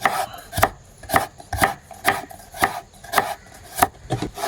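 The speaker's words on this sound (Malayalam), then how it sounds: "ക്യാരറ്റ് ഇതേമാതിരി നൈസിൽ കട്ട് ചെയ്തെടുക്കാം." A knife finely chops carrot on a board in steady, crisp strokes, about two per second, each a sharp close tap with no voices.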